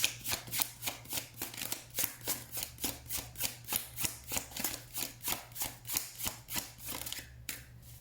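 Tarot cards riffle-shuffled over and over, about twenty quick crisp bursts in a steady rhythm, close and fairly quiet, with no talking.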